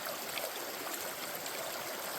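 A river flows beside the La Cloche hiking trail in Killarney Provincial Park, a steady, soft rushing hiss of moving water, continuous and fairly faint, with no voices.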